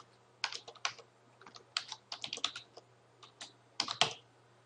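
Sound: typing sign-in information on a computer keyboard

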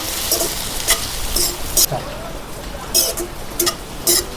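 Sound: sautéing barangi flowers in a pan

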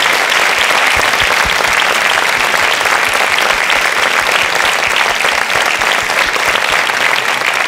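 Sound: audience applause

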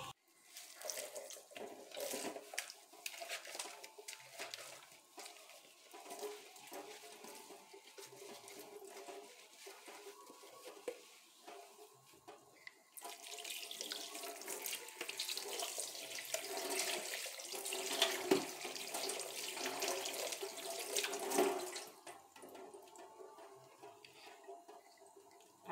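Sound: water running from tap while washing the mixer bowl

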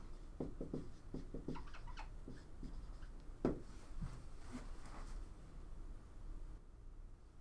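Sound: writing during maths lecture

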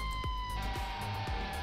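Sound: fire engine siren in video game Farming Simulator 19

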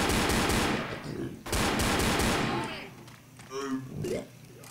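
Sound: gunfire from guns in the video game Left 4 Dead

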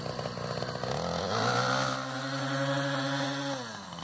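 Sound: gas weed whacker engine running

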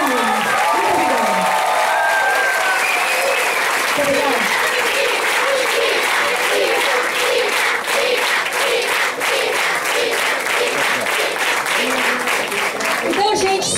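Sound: audience applause

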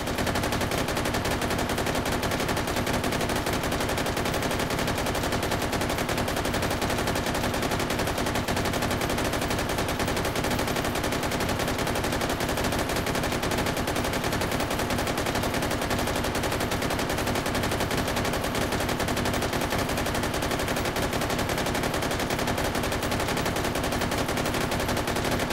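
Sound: gunfire with armor-piercing incendiary rounds in Hot Dogs, Horseshoes & Hand Grenades VR game

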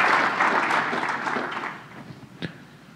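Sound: conference audience applause

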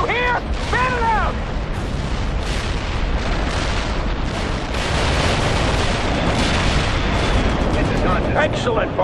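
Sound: artillery fire support in video game World in Conflict

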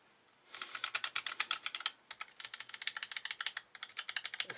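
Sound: typing on a Cherry G84-4400 mechanical keyboard

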